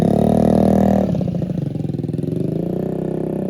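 A Honda Ruckus scooter's exhaust revs loudly up close, a steady buzzing drone that drops in pitch after a second and then pulses in rough bursts.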